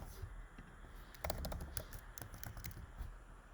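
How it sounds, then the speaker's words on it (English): Rapid keystrokes clatter on a computer keyboard in a short burst, quiet and close, over a soft background hum. "So let's start by typing in an email."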